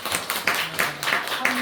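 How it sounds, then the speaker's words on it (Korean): A church congregation claps together during a harvest thanksgiving service, a burst of sharp, irregular hand claps in quick clusters with speech mixed in. "우리 서로 박수 갑시다"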